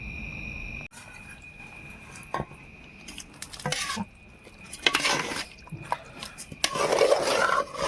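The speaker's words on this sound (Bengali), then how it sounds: "আমরা ঘিটা দিচ্ছিলাম তো একটু নেড়ে নিলাম এই জন্য।" Ghee-coated khichdi stirred in a cooking pot for a winter meal, giving intermittent scraping and metallic clinks of a spoon against the pot, growing busier and louder toward the end over a steady background hum.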